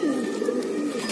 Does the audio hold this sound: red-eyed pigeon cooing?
yes